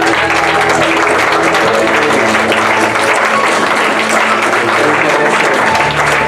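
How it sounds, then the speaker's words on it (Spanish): A church congregation claps loudly and steadily throughout, a dense, close wash of applause filling the room, with faint voices mixed in underneath. "¿Cuántos quisieran darle otro aplauso más fuerte?"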